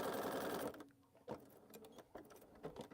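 A sewing machine stitches along a quilt's final border in a steady, close, loud whir that stops after under a second, leaving quiet room sounds and a few soft clicks and knocks.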